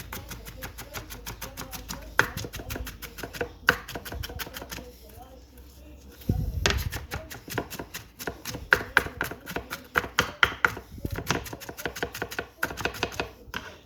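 A knife chopping onions on a cutting board for cheeseburger soup, a steady run of quick close taps with brief pauses, a person talking now and then between the cuts.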